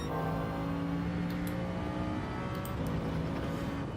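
Turbocharged sportscar on the Dragon Trail circuit in Gran Turismo 7, a steady high-revving engine drone held close and loud for a few seconds with no voices.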